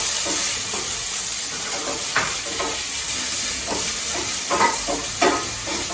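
Broccoli sautéing with green chili and onion in a hot pan, a steady loud sizzle and hiss running throughout with occasional scrapes and clinks of a stirring spoon.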